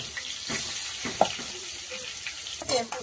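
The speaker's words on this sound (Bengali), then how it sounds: "সেই মাছগুলো এখন ভাজা করছি" Fish fries in a pan in a home kitchen, a soft steady sizzle with occasional pops and light utensil scrapes, fairly close and without talk.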